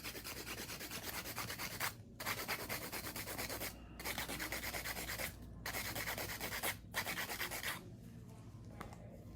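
A 100-grit hand file rubs over a fingernail in quick, circular rasping strokes, close up and continuous, broken by a few brief pauses as the file lifts.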